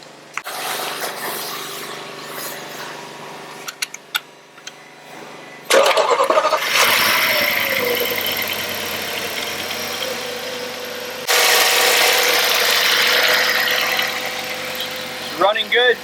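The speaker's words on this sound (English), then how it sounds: "Give it a cold start after a year of sitting here." A cold Audi S6 Avant V10 5.2 engine, idle for a year, cranks and catches with a loud burst, then settles into a steady rumbling idle with a later rise in revs. Some lifter ticking may be present.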